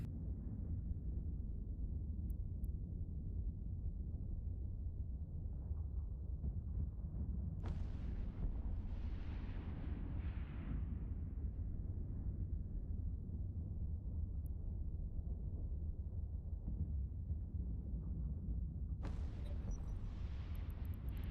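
EVE Online weapons fire in deep space, continuous low booming rumble of heavy guns or missile impacts, with two sharper bursts rising over the steady thunder.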